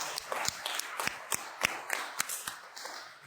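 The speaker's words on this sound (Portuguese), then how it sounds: "Você pode aplaudir a Jesus?" Church congregation clapping in a fairly quiet hall, a loose series of separate claps spreading across the room, moderately distant and soft.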